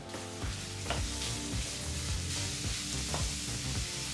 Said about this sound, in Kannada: ಈರುಳ್ಳಿನ ಮೀಡಿಯಂ ಫ್ಲೇಮ್ನಲ್ಲಿ ಮೂರು ನಿಮಿಷಗಳ ಕಾಲ ಫ್ರೈ ಮಾಡ್ಕೋಬೇಕಾಗತ್ತೆ